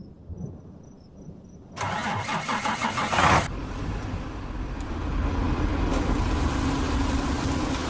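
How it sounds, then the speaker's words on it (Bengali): A cartoon vehicle engine cranks and catches, then settles into a steady running rumble close by, with no talk over it. "গাড়ি স্টার্ট দে এবার।"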